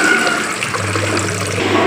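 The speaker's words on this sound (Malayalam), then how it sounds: "ഒരു പാത്രത്തിൽ ഇച്ചിരി വെള്ളം എടുത്ത് വെക്കുക" Steady rushing water runs continuously for a couple of seconds, close and fairly loud, as water streams into a cooking vessel.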